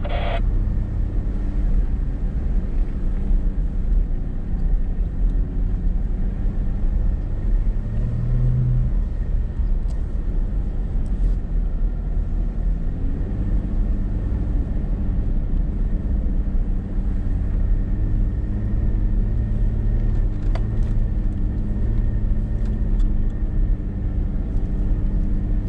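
A car engine labours steadily up a snowy hill on a country road, giving a constant low rumble and drone from inside the vehicle, unbroken for the whole stretch.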